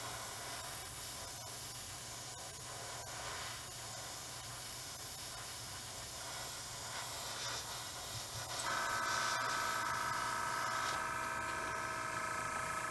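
A heavier third coat of paint sprayed onto a model, heard as a steady close airbrush-like hiss that grows slightly louder and fuller toward the end.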